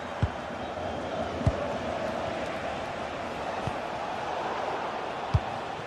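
A stadium crowd in a football video game gives off a steady, far-off roar of cheering, broken by a few sharp thumps from the ball being kicked.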